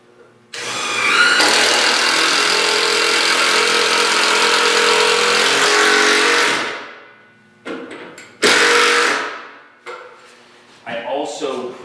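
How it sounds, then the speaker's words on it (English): An impact driver fitted with a 5/16 nut driver runs loud and steady for several seconds driving a screw into a pre-drilled 2x4, then gives a few shorter bursts with gaps between them, ending with faint handling noise. "I'm using my impact driver with a 5/16 nut driver in it"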